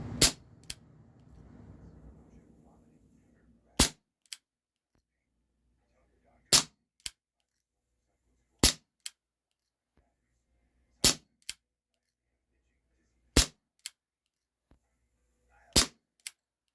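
A Cybergun Baby Desert Eagle CO2 pistol fires seven sharp, snappy shots at steady intervals of about two seconds, each followed by a fainter click or impact, with a brief rustle before the first shot.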